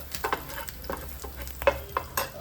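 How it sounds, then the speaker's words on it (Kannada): Curry leaves crackling in hot oil with fried garlic for a chicken dish, with scattered sharp pops and sizzles over a steady low frying hiss and occasional stirring scrapes, close and moderately loud, no talking. "ಬೆಳ್ಳುಳ್ಳಿ ಫ್ರೈ ಆಗಿಂದ ಒಂದು ಸ್ವಲ್ಪ ಕರಿಬೇವು ಹಾಕ್ಕೊಡ್ರಿ."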